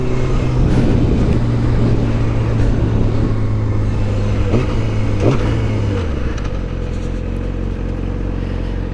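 A truck rumbles past nearby, with steady low engine drone and a passing swell, then the tone drops as it moves away, continuous road noise throughout.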